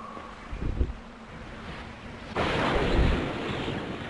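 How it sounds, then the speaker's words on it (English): Lightning strike in the Avatar: The Burning Earth video game, a sudden loud crackling boom that swells into a sustained rumbling roar after a few softer thuds, with no speech. "No, not lightning."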